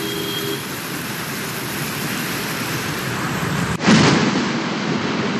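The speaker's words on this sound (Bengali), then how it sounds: "ব্যাপক ঝড় সঙ্গে বৃষ্টি।" A heavy storm with rain over Kolkata streets roars as a loud, steady wash of rain and wind, broken by one sudden sharp burst, with no speech.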